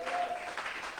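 Church congregation applauding during an evening service, a brief burst of moderate clapping heard alone.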